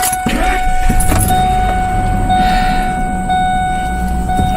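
Engine of a 2000 Ford Expedition with the 4.6 V8, which has a stalling fault in drive, cranking and catching, then settling into a loud, steady idle with a faint rattle of keys early on.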